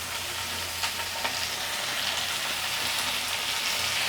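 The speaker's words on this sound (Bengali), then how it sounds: "এবার এগুলোর সাথে আমি পুঁই শাকটাকে 1 মিনিট ভেজে নেব।" Malabar spinach frying together with reddish-browned fried potato and eggplant in a pan, a steady close sizzle with soft crackles running throughout, no talking.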